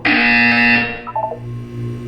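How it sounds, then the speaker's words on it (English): A buzzer in the video game Portal 2 sounds loud and harsh for nearly a second, then breaks into a few short electronic blips as a low hum carries on. "When you hear the buzzer, look down at the floor."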